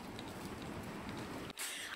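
Steady rain falls outdoors near a Tokyo summer water park, a dense even hiss of drops on surfaces, faint and continuous with a brief louder splash near the end.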